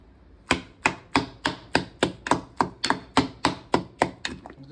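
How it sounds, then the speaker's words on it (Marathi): Garlic, cumin and green chillies pounded for a thecha, about a dozen sharp thuds falling in a steady, slightly quickening rhythm, close and fairly loud with no voices. "चांगलं ठेचून घेतो, चांगलं बारीक करून घेतो."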